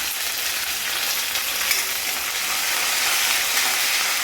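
Dals, dried chillies and curry leaves fry in hot oil for a millet semiya dish, giving a steady, dense sizzling hiss that holds evenly throughout, close and unbroken, with no voices.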